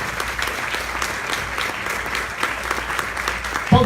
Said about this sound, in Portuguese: Gente, você pode aplaudir ao Senhor?